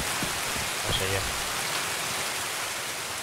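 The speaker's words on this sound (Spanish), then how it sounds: "para de llover" Rain falls in the video game Escape from Tarkov on the Shoreline map, a steady broadband hiss throughout with a brief voice near the start.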